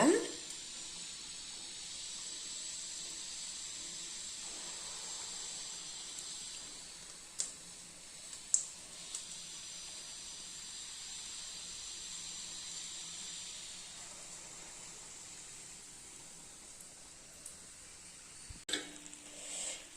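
Sweet tea-shop style maida bonda batter drops into hot oil and fries with a soft, steady hiss, faint and continuous, punctuated by a few small splashes and clinks of the ladle.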